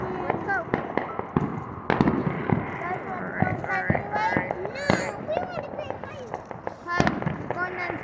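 Fourth of July fireworks and firecrackers crackle and pop in a rapid, irregular series of sharp bursts, some near and loud, with people talking throughout.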